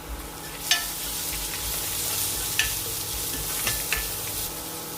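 Crushed garlic, pepper, ginger, cumin and green chili sautéing on low heat for a green mango rasam, with a steady soft sizzle and a few scraping stirs of the spoon against the pan, close and with no voices.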